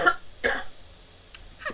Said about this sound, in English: Just get over one cough and I get another one